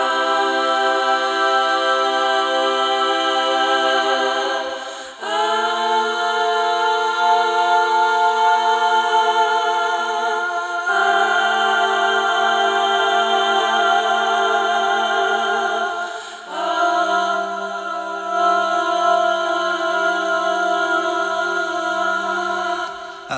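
A six-part dissonant vocal harmony with close semitone clashes moves through four sustained chords, each held for several seconds with a brief dip between them, bright and full with no talking over it.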